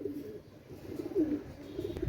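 Pakistani pigeons with deep red eyes, a young pair, give soft low cooing that murmurs steadily under faint background noise, fairly quiet and without talk.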